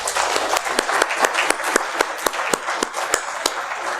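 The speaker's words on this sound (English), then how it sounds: "One more final round of applause for all of our Cornerstone Talks." An audience at the Asia Liberty Forum 2018 breaks into steady applause, dense clapping from a room full of people with a few louder, sharper claps standing out near the front.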